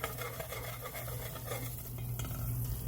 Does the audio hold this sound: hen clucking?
no